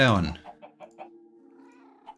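A voice briefly opens, then a very hungry, impatient video-game cat gives a quick series of short, faint meows, followed by a longer thin whine.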